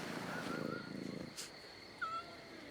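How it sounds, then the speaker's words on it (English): A cat purrs in a low, soft rumble while being petted in Assassin's Creed Black Flag, followed by a couple of brief high chirps, fairly close and faint with no talk over it. "Can't pass up a opportunity to pet a cat."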